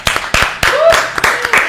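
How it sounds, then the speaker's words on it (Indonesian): Podcast hosts in a studio, talking about aluminium production, clap their hands a few times in an uneven, close patter while one of them talks and laughs over the claps. "Tepuk tangan dulu dong."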